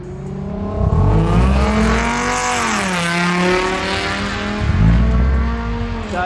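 A Subaru BRZ fitted with catless Tomei unequal-length headers and an HKS exhaust revs loudly and close, its engine note rising and falling through several sweeps with a rough, raspy edge.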